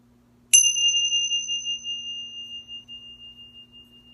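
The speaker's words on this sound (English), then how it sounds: "I'm going to ring the Tingsha bells" A single bright strike of small tingsha bells, a clear high ring that sustains and slowly fades over several seconds in a quiet room.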